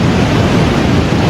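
Floodwater from South Creek and Squirrel Creek rushing over a road near Pine Drive, Colorado, a loud, dense, continuous roar of churning water filling the whole moment, no voices.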